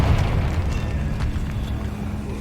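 Confringo blasting spell exploding in Hogwarts Legacy inside a spider-infested catacomb, a low rumbling blast and debris roar filling the short clip, close and steady in loudness.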